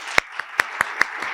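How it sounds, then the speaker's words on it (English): Several separate claps sound at an even pace, a fairly near sparse clapping with no talk over it, as an audience starts a round of applause at a community service event. "If we could give them a round of applause."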